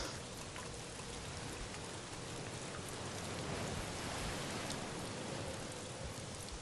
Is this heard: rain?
yes